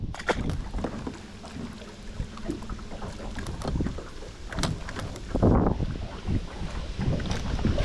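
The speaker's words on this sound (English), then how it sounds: "Oh my God, it's so windy." Strong wind buffets the microphone continuously while bass fishing on a river, with rumbling gusts swelling and fading and occasional water sounds, no voices.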